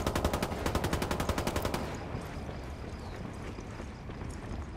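Heavy automatic gunfire in a mortar-focused military video game, a fast rhythmic burst of close shots that gives way to a dense, rumbling wash of distant battle noise.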